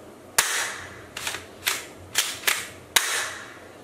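Toy revolver pistol in three colours, black, green and sky blue, firing a series of sharp snapping cap-gun shots, six cracks spaced irregularly over a few seconds, close and loud with brief reverb tails.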